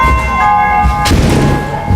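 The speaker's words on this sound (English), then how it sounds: "Knocking on the windows. Messing with the mail flap. Ringing the doorbell. Knocking on the door." Loud ringing doorbell chime with sustained bell-like tones, then sharp knocks and rattling against a door, windows and a mail flap, all piled together in a dense burst of noise.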